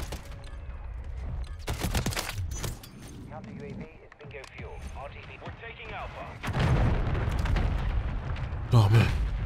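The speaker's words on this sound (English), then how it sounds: "Friendly mortar strike on the way." Mortar strike explosions rumble through a Call of Duty MW3 multiplayer match, heavy booms and bursts of fire rolling across several seconds with a loud surge near the end, while a player talks over the chaos.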